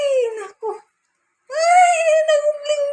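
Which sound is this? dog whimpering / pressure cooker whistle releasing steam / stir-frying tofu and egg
dog whimpering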